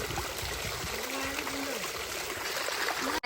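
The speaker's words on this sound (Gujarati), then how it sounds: "જો કેટલું મસ્ત પાણી આવે છે" Steady rushing water of a stream near the old Girnar steps in Gujarat fills the clip, a continuous broadband flow, with a brief faint voice-like tone in the middle.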